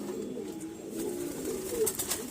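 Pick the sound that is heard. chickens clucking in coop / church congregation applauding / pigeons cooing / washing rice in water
pigeons cooing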